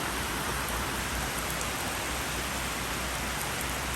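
Rain falls on a dirty Toyota Axio 4WD parked outside, a dense, even hiss with no single drops standing out, fairly faint and with no voices.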